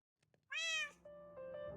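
Cat in Minecraft giving a single clear, close meow, followed by a quieter lingering tonal sound, with no talking.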